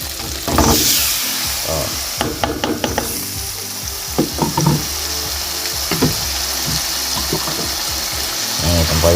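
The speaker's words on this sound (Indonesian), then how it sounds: "Ini tempoyaknya kita goreng bersama dengan cabai tadi, teman." Tempoyak, fermented durian, frying with chili in a pan, a steady sizzle with scraping stirs and clinks over it; a voice gives a short exclamation once.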